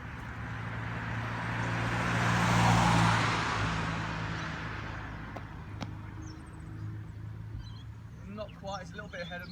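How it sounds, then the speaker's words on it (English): A car approaches along a road and passes close by, its tyre and engine roar swelling to a peak and fading away, followed by a person speaking in the quiet afterward. "there's a car coming"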